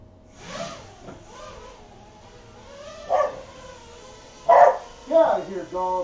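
A dog barks and yips outside during a quadcopter flight, several sharp bursts with the loudest near the end, interspersed with a person talking.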